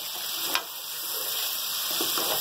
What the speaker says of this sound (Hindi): अदरक लहसुन पेस्ट नमक के साथ हम इनको भी भूनेंगे।